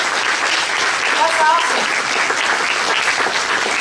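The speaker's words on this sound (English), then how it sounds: "another round of applause" A conference hall audience at a union stewards' gathering gives a sustained, steady round of applause, with a voice speaking briefly over the clapping.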